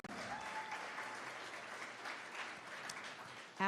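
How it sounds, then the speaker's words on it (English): Audience applause at a parents' town hall in Aurora, Colorado: a steady, moderately quiet wash of clapping from a seated crowd that continues for a few seconds without talk. "you could clap for Charlotte because she's amazing."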